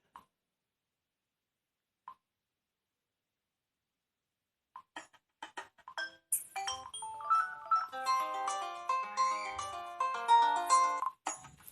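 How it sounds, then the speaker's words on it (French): Xiaomi Redmi Note 3 Pro phone ringtone playing from its speaker, a few soft isolated blips giving way to a bright melodic chime tune that rises and repeats, clear and close. "Sonnerie."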